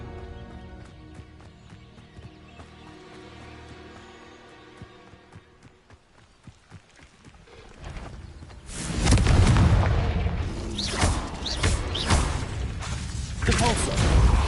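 Confringo explosive spell blast in Hogwarts Legacy, a sudden loud booming burst that swells and rumbles on with roaring fire and debris, after quieter combat sounds and a shouted voice.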